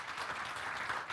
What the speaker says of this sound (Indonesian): Kasih tepuk tangan dulu buat Tuhan Yesus.